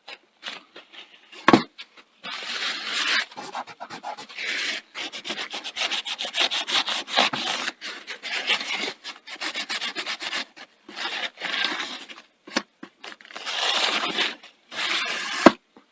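Cloth rubbing and wiping grease off the casing of a Sony TT-F1 Betamax tuner, heard as close, repeated scratchy swishing strokes in irregular bursts with short pauses, no voices.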